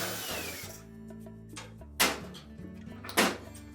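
A power driver whirs in short runs while backing a 5/16 screw out of the top clamp on a Whirlpool dryer cabinet, broken by two sharp clicks or knocks near the end.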